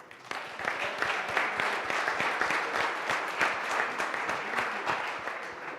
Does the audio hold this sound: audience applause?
yes